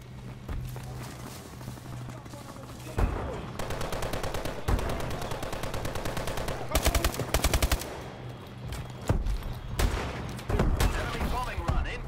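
Rapid automatic gunfire in a multiplayer first-person shooter, bursts of rattling shots layered over game music and effects, with someone talking at times over the fire.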